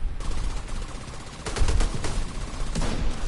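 Gunfire in The Division 2 at the Air and Space Museum, a run of sharp rifle shots with heavier bursts near the middle and end, loud and close over a constant rumbling game backdrop.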